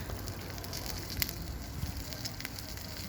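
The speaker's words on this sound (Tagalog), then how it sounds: "Sadyang sinusunog yan mag-ihaw dahil nga makapal ang kaliskis." Thick-scaled fish roasting directly over an open grill fire gives a steady close crackle and sizzle, with sharp pops breaking through a constant low roar.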